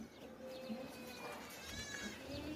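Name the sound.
goat bleating at livestock market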